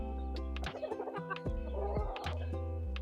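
Bantam chickens cluck steadily up close while a bantam rooster gives short, choppy calls, several birds overlapping in a busy, continuous flock chatter.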